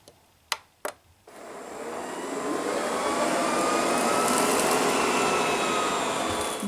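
Ecovacs Deebot M81Pro robot vacuum sweeping fine toaster crumbs off carpet, starting after two sharp clicks with a steady loud whirring drone that holds on alone.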